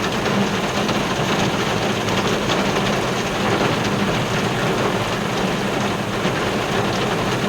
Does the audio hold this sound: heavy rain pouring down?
yes